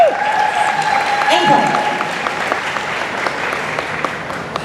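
Applause from a fan-convention audience at a panel of actresses, steady and moderately loud, with scattered individual claps standing out and a brief spoken remark near the start.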